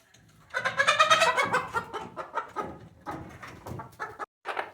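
An unhappy hen on a roosting bar gives a burst of loud, close, agitated clucks and squawks that keep going in uneven bursts with short pauses between them.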